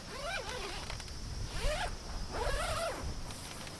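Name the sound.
unzipping the front of a rooftop tent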